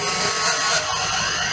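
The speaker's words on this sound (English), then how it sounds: "There was also a timer wah in that too" A timer wah on a MUZA GP300 multi-effects pedal sweeps a dense, buzzy guitar tone in a gentle, continuous filter motion, loud and steady with no pauses.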